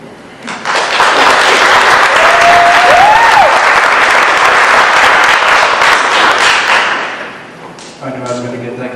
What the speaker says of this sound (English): I knew I was going to get that kind of applause.